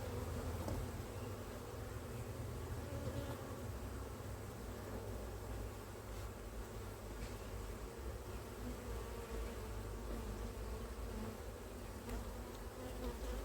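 Honey bees from an opened flow hive buzz steadily and densely at close range during a spring inspection, a continuous droning swarm with no talking.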